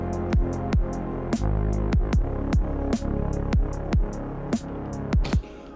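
A drum machine kick and snare, sidechained in Bitwig so the sustained tones duck on each hit, play a punchy repeating electronic beat with the background swelling back between strikes.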